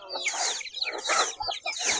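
Chickens cluck and squawk in a busy, continuous chorus close by, with several birds calling over one another at a steady, lively level as they peck at rice grain.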